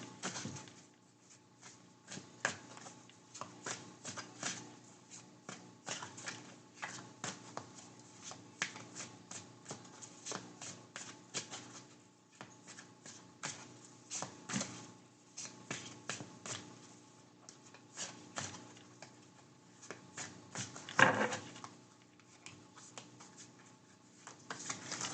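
Tarot cards are shuffled by hand, a quiet, close stream of crisp flicks and riffles in irregular bursts, with one sharper, louder riffle near the end.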